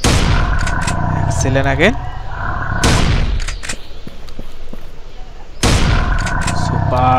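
Gunshots ring out in the mobile shooting game Dinosaur Hunter Jungle Safari, with loud bursts of gunfire and sharp single shots spread across the stretch along with game music, and a voice speaks briefly over them.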